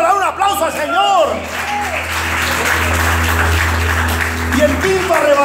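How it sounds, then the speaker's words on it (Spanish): Church congregation applauding during a Spanish-language sermon on eschatology, a loud steady clapping wash with shouts and cheering voices mixed in throughout. "¿Cuánto le da un aplauso al Señor?"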